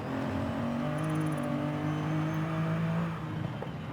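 A car engine in Forza Horizon 5, sounding like a Ferrari V12, steady smooth droning hum held at a constant pitch, then easing off near the end.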